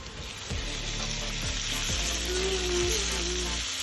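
Chopped tomato with turmeric and Kashmiri chili powder frying in mustard oil, a loud, steady close sizzle with occasional soft stirring scrapes, no voices.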